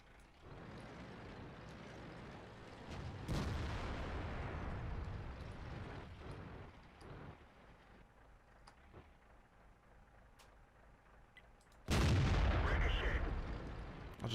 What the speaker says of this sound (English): I'll just try to get some shots out on that IS-3 for now because I need to stay within some sort of cover